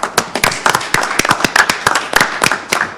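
Steady applause from a small crowd at a township board of commissioners meeting, many hands clapping together in a brisk, uneven patter, fairly close and loud.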